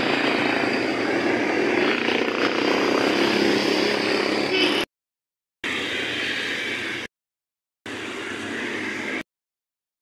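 A bangka motorboat engine drones steadily as it passes, loud and continuous, with the sound cutting out abruptly a few times near the end.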